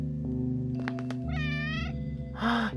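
A cat in the video game OneShot gives two short, bright meows, one in the middle and a louder one at the end, over a steady low game music background.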